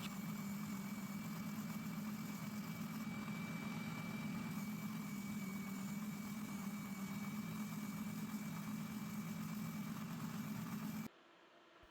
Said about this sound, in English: So I made this really ugly jig at my spindle sander to do that.